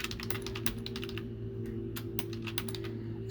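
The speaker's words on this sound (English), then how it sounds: "I'm going to go ahead and retype mine here." Quick bursts of keystrokes on a computer keyboard, close and clear, with short pauses between runs of typing.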